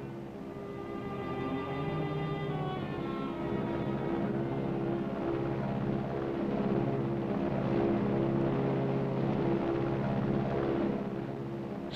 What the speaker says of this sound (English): Sounds like the plane.